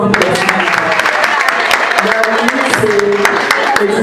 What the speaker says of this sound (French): le petit applaudissement